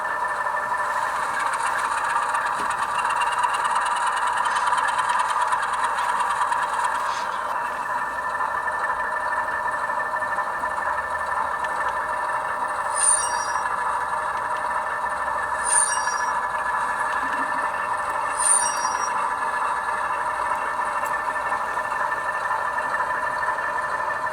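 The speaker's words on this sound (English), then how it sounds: "when I ramp up the RPMs, you'll be able to hear that turbine kicking in." Alco S2 model locomotive DCC sound decoder producing a steady diesel engine drone with a rising turbocharger whine, playing alone at moderate level with a few short high chirps near the end.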